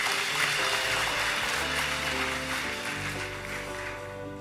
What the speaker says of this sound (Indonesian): kasih tepuk tangan dulu buat.